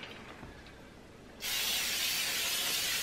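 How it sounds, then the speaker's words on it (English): A can of vegetable oil cooking spray hisses in a steady, close burst onto a fish grill basket for lake trout, starting abruptly after a moment of quiet handling and continuing unbroken. "I'm going to spray it with some vegetable oil, and that'll keep it from sticking"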